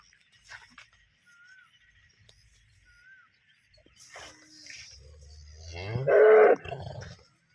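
A single cow lets out a deep, drawn-out moo near the end, loud and close, after quieter barn noises and a few faint sounds.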